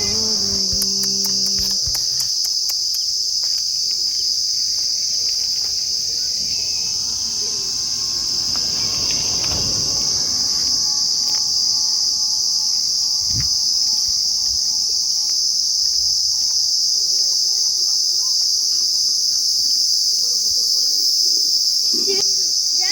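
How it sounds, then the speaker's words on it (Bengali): Crickets trill in a constant, loud, high-pitched chorus on a hot summer afternoon outdoors, steady throughout, with faint birds and a few brief background noises underneath. "দেখো কেমন ঝিঁঝি পোকা ডাকছে"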